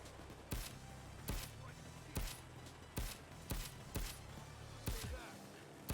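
Video game gunfire, a series of single sharp shots spaced about a second apart, loud and punchy over a quieter steady background.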